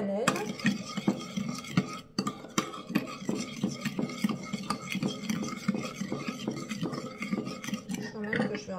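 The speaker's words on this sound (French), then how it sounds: "On mélange bien." Cinnamon cream mixture is stirred in a bowl for a gluten-free, lactose-free apple and cinnamon brioche cake. A utensil scrapes and taps against the bowl in a quick, busy rhythm, close by, with faint talk in places.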